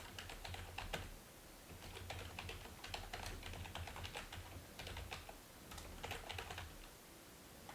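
Fingers type a project name on a computer keyboard, quick irregular bursts of clicking keystrokes close by with short pauses between words, no talking.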